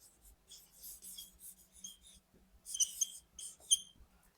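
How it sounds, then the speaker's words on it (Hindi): Pen or pencil writing letters by hand on paper, with soft scratchy strokes in short bursts and pauses, close and quiet, with no talk. "चूंकि गांधी जी प्रॉपर नाउन है तो ये कैपिटल लेटर से लिखेंगे।"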